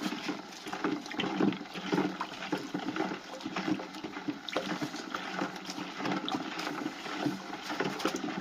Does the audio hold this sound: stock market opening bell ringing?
no